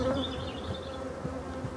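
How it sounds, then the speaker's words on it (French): Honeybees hum steadily at an open hive while frames are handled, a dense continuous drone of many insects close by, with soft handling knocks now and then and no voices. "Et c'est des abeilles calmes, heureusement."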